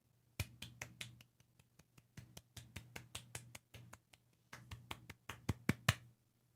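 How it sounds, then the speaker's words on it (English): A small group gives a light golf clap for a pun, about two dozen sharp, separate claps at an uneven pace over several seconds, fairly close and quiet, ending in a few louder claps. "Give Will 5 seconds of golf clap for his amazing pun"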